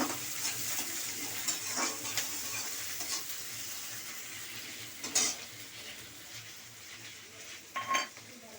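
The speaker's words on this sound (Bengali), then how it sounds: "পেঁয়াজটাই হালকা করে একটু ভেজে নিলাম" Chopped onion frying lightly in a pan for an egg and potato bhaji: a steady soft sizzle with scattered spatula scrapes and clinks against the pan, plus a few louder stirring knocks near the end.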